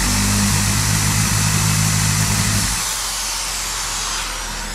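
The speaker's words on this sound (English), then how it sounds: "And we'll put it on the alternator. And we'll spin it." A car alternator is driven by a speed-controlled motor and gives a loud, steady mechanical whine with hum. After about three seconds it drops to a quieter, lower running drone.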